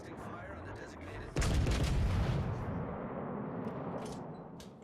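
Artillery fire in a video game: a sudden loud boom after a quiet, rumbling stretch, followed by a long rolling roar that slowly fades, with a few later distant cracks.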